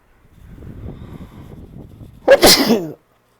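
A single loud sneeze follows a few seconds of quiet, shaky breaths building up to it.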